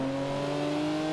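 A BMW from the Top Gear car pack in Forza Horizon 2, its engine droning at a steady, sustained pitch, loud and close with no talking.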